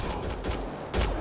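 Burst of gunfire in the video game Mass Effect Andromeda, a short rapid volley of shots with a heavier blast at the end, loud and close.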